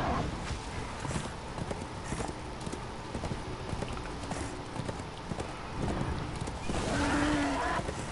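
Horse hooves clip-clop in a quick, steady trotting rhythm in the video game Darksiders II, close and continuous, with a short whinny-like tone near the end.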